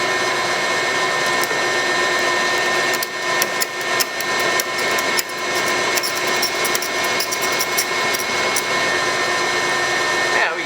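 A steady, loud lathe whir runs throughout with grinding, scraping metal chatter layered on top as a larger drill bit cuts out a broken center drill, close up.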